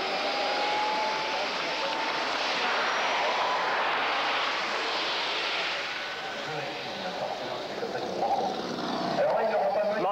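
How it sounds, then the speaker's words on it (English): A Bob Violett T-33 Shooting Star model jet roars steadily at an air show, a continuous loud turbine whine and rush of air that dips slightly midway and surges again. "this model aircraft here, which is made from the Bob Violet models T33 Shooting Star"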